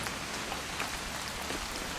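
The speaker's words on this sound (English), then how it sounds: "It's gonna rain the whole weekend, isn't it?" Rain falls steadily in What Remains of Edith Finch, a dense, even hiss of many drops on surfaces with no voices or other sounds.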